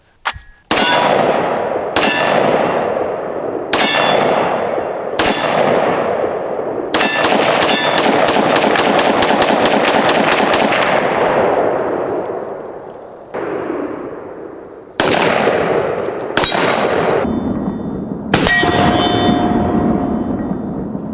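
A Sig MCX Spear LT rifle chambered in 7.62x39 firing at a range: loud, sharp reports with ringing metallic decays, several spaced single shots, then a quick string of rapid fire, then a few more single shots.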